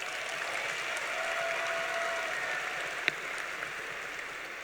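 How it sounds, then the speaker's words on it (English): Graduation audience at a 2022 high school ceremony applauds in a steady, even wash of clapping that holds at moderate loudness throughout, with one sharp isolated clap or knock standing out near the end. "So let's give ourselves a round of applause."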